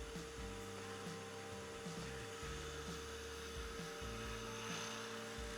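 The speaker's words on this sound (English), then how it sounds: "turn the lathe on to about 500 RPM and drill a pilot hole completely through the ring blank" Wood lathe running at about 500 RPM while a drill bit bores a pilot hole through a ceramic ring blank, a steady motor whine with a low grinding, rubbing churn underneath.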